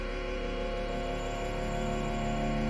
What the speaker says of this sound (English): Then the cello and that little texture sound like this.